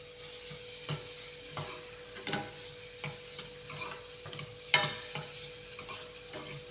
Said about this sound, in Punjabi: ਤੇਲ ਆਪਣਾ ਹੋ ਚੁੱਕਿਆ ਗਰਮ ਆਪਾਂ ਜੀ ਲਸਣ ਪਿਆਜ਼ ਕੱਟ ਕੇ ਰੱਖੇ ਨੂੰ ਵਿੱਚ ਐਡ ਕਰ ਦਾਂਗੇ